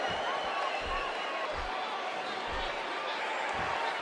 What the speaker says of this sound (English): And what about this crowd reaction